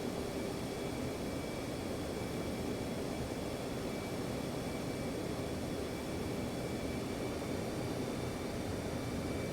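An F-15C jet in a flight simulator game rolls down the runway for takeoff, its engine a steady, loud broadband roar with a faint high whine, unchanging from start to end.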